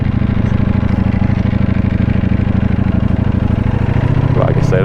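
A Ducati Panigale V4S motorcycle engine runs in race mode, a steady deep pulsing rumble that stays loud and close throughout with no pauses.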